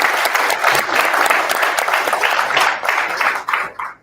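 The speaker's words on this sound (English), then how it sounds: "Can you please give me a round of applause?" Loud, close applause from an audience at a Wikimedia Foundation Board of Trustees session, many people clapping together and sustained for several seconds before thinning out at the end.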